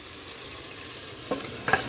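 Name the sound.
chicken frying in tomato masala for biryani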